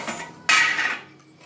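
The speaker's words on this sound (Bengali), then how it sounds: "বন্ধুরা এবারে ঢাকনাটা খুলছি" A metal lid lifted off a pot holding a biscuit cake in a home kitchen, giving one sharp clank followed by a short ringing scrape, close and fairly loud, then fading quiet.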